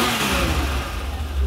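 A Ferrari 512 BBi flat-twelve roars up to high revs on start-up, loud and close, a steady full-bodied engine note held through the moment with no voices.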